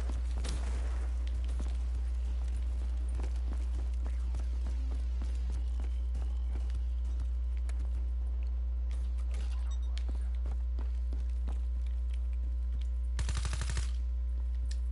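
Rapid automatic gunfire crackles in the Black Ops 3 beta, loud and continuous bursts layered over a steady low hum, with an especially dense burst near the end.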